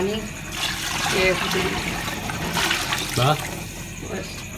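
Water pours into a cooking pot of biryani with green chillies and spice, splashing and gurgling in uneven bursts while someone talks over it.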